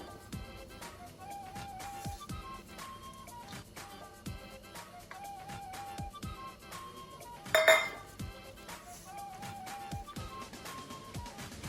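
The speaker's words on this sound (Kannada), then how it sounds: "ಈಗ ನೋಡಿಕೊಂಡು ಮೊಸರನ್ನು ಸೇರಿಸ್ಕೊಂಡು ಕಲಿಸ್ತಾ ಹೋಗಬೇಕು" Kitchen clinks and scrapes of a spoon working curd into batter in a bowl for Mangalore-style goli baje, steady stirring strokes near and moderately loud, with one brighter clatter midway.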